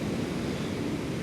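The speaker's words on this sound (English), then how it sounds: "And there is the ocean." Ocean surf rolls against the Iceland coast, a close, steady broadband wash with wind rumble, alone and continuous for a moment.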